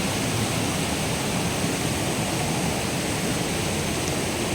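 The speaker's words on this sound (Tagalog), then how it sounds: "Ang lakas ng current ng tubig." Strong water current at Mother Falls makes a dense, constant roar of rushing water that sounds close and loud, with no break and nothing else heard over it.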